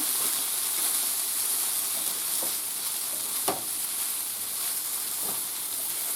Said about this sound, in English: I laid all those diced up potatoes, a little bit of olive oil, and I had it on a low simmer